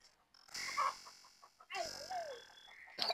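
Chickens call out nearby with a couple of loud, drawn-out clucks and short cackles separated by a brief pause.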